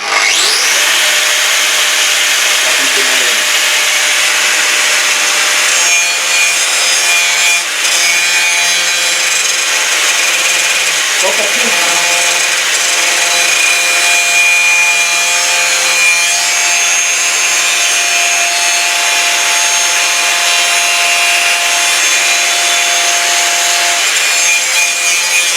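Angle grinder with an abrasive disc spinning with no load, a loud, continuous high-pitched whine that holds steady throughout, with no voices.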